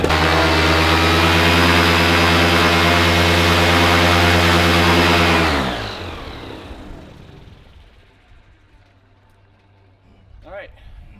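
An Atom 80 model aircraft engine runs at a loud, steady, high-pitched whine on a cold start, then cuts out and winds down to near silence, with a faint brief noise near the end.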